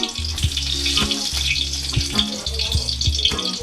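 Chanda fish being fried with dried chillies in a pan, a steady close sizzle with light rattling, no voices.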